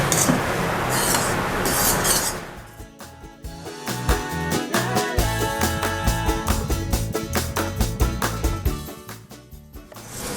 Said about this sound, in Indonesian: Saya kocok manual.